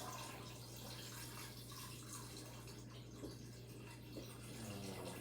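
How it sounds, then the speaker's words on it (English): Tap water pouring into a pot of raw chicken and cold stock to cover it, a quiet, steady splashing stream with a faint background hum. "You want to just cover it with water."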